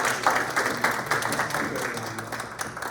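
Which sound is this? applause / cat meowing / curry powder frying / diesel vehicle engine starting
applause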